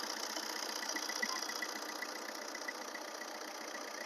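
A 2017 Maruti Swift Dzire VDI diesel engine idles steadily, a close, even hum with a faint rattling edge that holds level throughout, with no voices.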